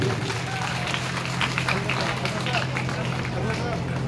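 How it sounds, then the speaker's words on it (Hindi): Applause from an audience at a local awards and felicitation ceremony in Panchodi, a broad steady wash of clapping mixed with crowd babble and a low hum, sustained and fairly loud throughout. "एक बार दोनों हाथों में जोरदार तालियां बनती है।"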